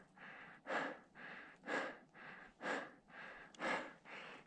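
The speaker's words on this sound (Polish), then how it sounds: "Coraz częściej muszę zatrzymywać się i brać duże oddechy." Heavy, rhythmic breathing of a solo climber at high altitude on the Matterhorn's Hörnli ridge, about eight deep gasping inhales and exhales, close to the microphone and alone.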